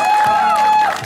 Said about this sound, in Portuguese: Olha só. Palmas pra Sônia.